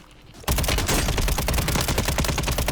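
Automatic gunfire in the shooter Warzone, a sudden loud burst of rapid, evenly spaced shots that starts after a brief quiet and keeps hammering close and dense to the end.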